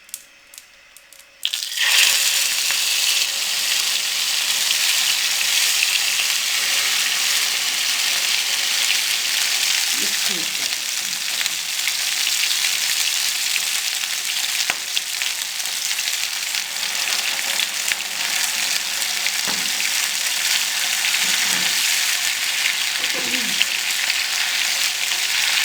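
Saag goes into sizzling desi ghee tadka, bringing an abrupt, loud, steady frying hiss with occasional stirring scrapes that lasts through the whole stretch.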